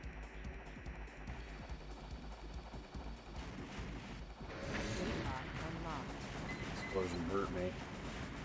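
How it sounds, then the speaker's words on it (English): Explosions and gunfire from the mech combat video game Armored Core Master of Arena, rumbling bursts and crashing blasts that grow louder midway, mixed with game sound effects. "Explosion hurt me."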